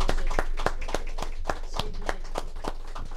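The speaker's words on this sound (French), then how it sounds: "Merci, Josée, on l'applaudit." Applause at a funeral ceremony, a steady series of sharp hand claps about every quarter second, close and fairly loud, with no talk over them.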